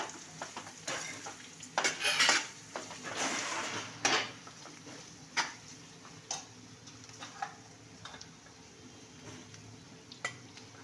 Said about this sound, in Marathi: आणि या कैरीच्या फोडी घालते मी आता। थोडंसं परतून घेऊया।